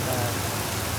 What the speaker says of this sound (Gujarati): વાહ શું વરસાદ